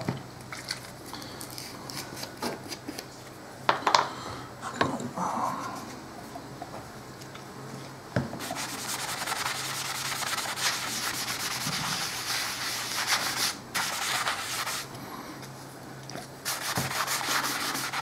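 Clear varnish being brushed onto a handmade medieval-style leather belt pouch, giving soft steady rubbing and scraping strokes, close and fairly quiet, with brief louder brushes and a denser stretch of continuous rubbing later on.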